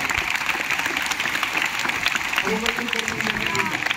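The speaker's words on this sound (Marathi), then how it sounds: "आपण जोरदार त्याच्यासाठी टाळ्या वाजवूया." A room of school students claps together in sustained, even applause, close and dense, with a voice speaking briefly over it.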